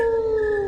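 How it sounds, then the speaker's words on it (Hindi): A jackal howls in a single sustained, slightly falling wail close by, heard alone as a night-time horror story effect near a forest village. "कभी कभी सियार की हुआ आवाज भी आती थी।"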